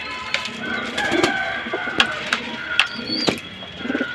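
A pigeon feeds its mate on a rooftop shelter, with soft coos, scattered chirps and light fluttering against a steady outdoor background.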